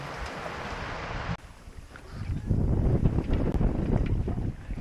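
A sailboat with its poled-out mainsail and genoa cruises across the Pacific Ocean, with gusty wind buffeting the microphone over a continuous rush of water against the hull that swells louder partway through.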